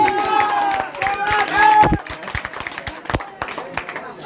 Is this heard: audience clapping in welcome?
yes